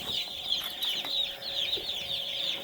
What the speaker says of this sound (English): Olivia, do you want to show one of the chickens?